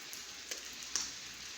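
Rain falls steadily outdoors as a soft, faint hiss, with a couple of slightly louder drips or splashes standing out briefly.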